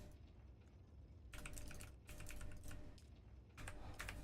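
A computer keyboard and mouse click during a PC game session of Dune Awakening, bursts of rapid close keystrokes separated by short pauses over a low background hum, with no speech.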